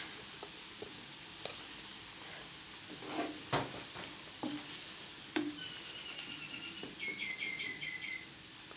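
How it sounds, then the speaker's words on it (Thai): Thai young jackfruit and pork belly curry cooks in a pot over low heat, a steady close sizzle and bubbling with a few soft clinks and stirring knocks, and faint chirps in the background. "เราก็ใส่ขนุนลงไปเลยค่ะ แล้วเดี๋ยวเราเคี่ยวเข้าไว้อย่างนี้นะคะ"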